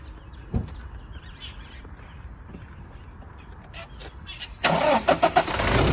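A 2018 Toyota Innova Crysta 2.4V diesel starts with a short crank and catches, then revs loudly up close, after a stretch of quiet background murmur and a single thump.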